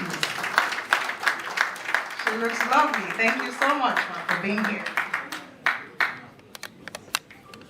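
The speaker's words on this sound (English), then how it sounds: "A round of applause for her, please." An audience at a Lagos medical association conference applauds a speaker, with scattered claps starting and fading while a voice talks over the clapping.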